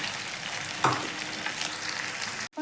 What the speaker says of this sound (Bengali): একবারে হবে না তো আমি দুবারে ভেজে নেব